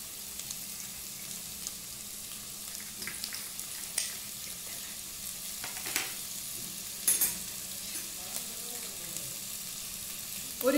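Carrot ginger soup ingredients with ginger, pepper and rosemary stirred in a pan, a faint steady sizzle with soft scraping and occasional light clinks, heard alone.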